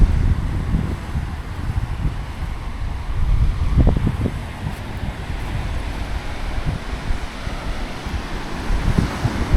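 Sea waves wash ashore at Dale Beach in Pembrokeshire while strong wind buffets the microphone, a continuous rough roar with low surges of surf.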